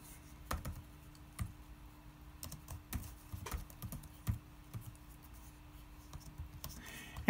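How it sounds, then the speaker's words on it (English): Close, quiet typing on a computer keyboard, with irregular bursts of key clicks and short pauses, entering text in sign-carving software. "Now I'm going to type in my text that I want"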